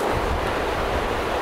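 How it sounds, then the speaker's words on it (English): A large volume of water rushes through a huge river flood-relief overflow channel on the River Anker, a dense, steady broadband roar that continues without a break. "there's a lot of water coming through here"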